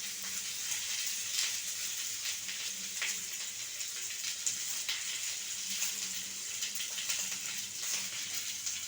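Onions frying in a pan, a soft continuous sizzle with faint crackles and occasional light stirring, steady and fairly quiet throughout.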